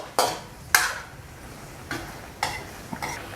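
Several sharp metallic clanks of a lid set onto a pot of spicy stir-fried catfish, spaced irregularly, close by with quiet kitchen background between.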